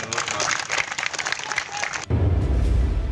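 Crowd clapping at a political rally in Uttar Pradesh, a dense wash of applause that runs steadily and then cuts abruptly to a different low rumbling background.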